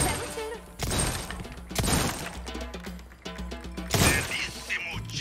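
Gunfire striking targets at a shooting gallery in Resident Evil 4 Remake, with several sharp cracking, shattering hits spread over a few seconds, layered with loud game music and effects.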